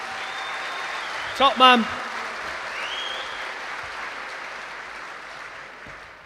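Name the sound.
applause for Cameron Donald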